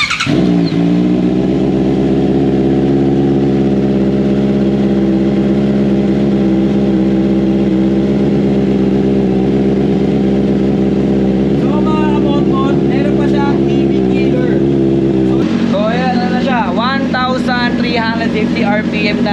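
Vehicle engine idling with a dB killer fitted during a sound check, a loud, steady harmonic drone that shifts pitch near the end, with a voice talking over it.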